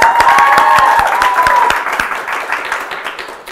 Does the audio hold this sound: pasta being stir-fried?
no